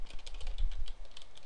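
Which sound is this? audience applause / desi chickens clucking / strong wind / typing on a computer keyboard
typing on a computer keyboard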